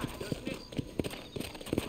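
Horse hooves clip-clop in the Red Dead Redemption video game, a run of soft, evenly spaced thuds at a steady walking rhythm. A voice talks over part of it.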